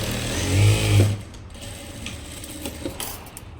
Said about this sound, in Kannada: ಒಂದೊಂದು ಕಡೆನೂ ಮೂರು ಅಥವಾ ನಾಲ್ಕು ಸ್ಟಿಚ್ ಹಾಕ್ಕೊಡ್ತೀವಿ